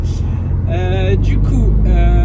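Car driving on a badly damaged, rough road, heard from inside the cabin with a phone in a dash mount: a steady, loud low rumble from tyres and engine runs throughout, with a voice talking over it.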